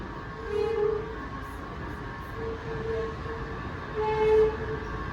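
A Washington Metro train on the Silver and Orange Line pulls into a station near Tysons Corner, a steady rumble under short tonal horn-like notes that swell louder toward the end.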